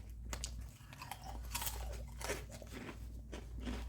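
Close, crisp crunching and chewing of jalapeño Cheetos, several bites broken down in uneven bursts at low volume with no speech.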